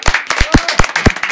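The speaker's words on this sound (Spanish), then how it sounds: "un aplauso a la señora" A small group claps for a woman receiving a gift, a few distinct, close hand claps in an uneven rhythm over barely a second and a half.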